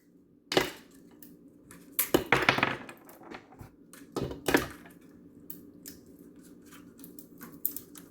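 Ice cubes tumbling into a blender jar for a protein strawberry milkshake with low-fat milk, heard as a few sharp clattering bursts, the first alone and then a denser cluster, followed by lighter scattered clinks.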